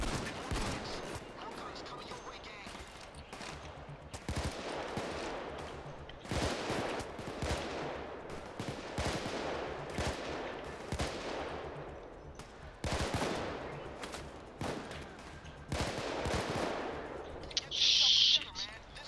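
Gunfire in Payday 2 during a hard-difficulty gold bank heist, with dense repeated shots and bursts throughout a loud firefight while players talk over the action.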